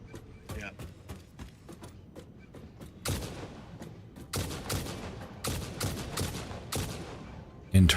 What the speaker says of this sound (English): It's like a mini explosion, but it sounds more like an actual rifle now.